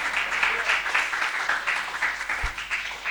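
A church congregation applauds together, a dense, steady wash of many hands clapping that holds evenly for the whole stretch, with little talk above it.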